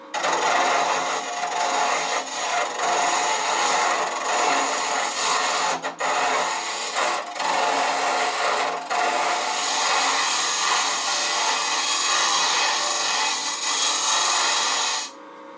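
A woodturning lathe hollows out a wooden cube with a high-speed steel 3/16-inch tip on a straight bar, giving a loud, continuous scraping rasp with brief dips as the cut pauses, and no talking.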